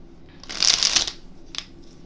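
A deck of tarot cards is riffle-shuffled once in a quick, crisp burst, followed by a brief softer tap of the cards settling.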